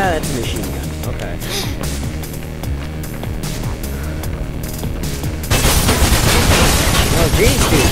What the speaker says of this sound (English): Yeah, that's a machine gun.